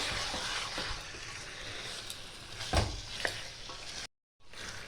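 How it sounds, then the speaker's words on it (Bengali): Chicken bhuna being sautéed in a pan, a close, steady sizzle with spoon stirring and scraping, one louder clatter midway, then a brief cut to silence before the sizzle returns. "এটা আমি পাঁচ মিনিট ধরে কষিয়ে নিয়েছি"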